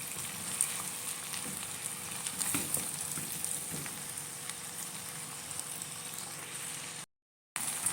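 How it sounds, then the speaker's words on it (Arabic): Okra sautéing with meat and onion in a pan, a steady close sizzle and crackle with occasional stirring scrapes, continuous with no voices and a brief dropout near the end. "كده خلاص انا شوحتها لمده حوالي 5 دقايق كده مع اللحمه والبصل"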